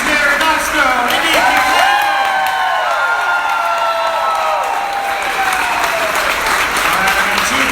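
A large crowd at a mayoral campaign kickoff speech in Knoxville applauds loudly and steadily, with cheers and whoops rising over the clapping throughout, and voices shouting amid the noise.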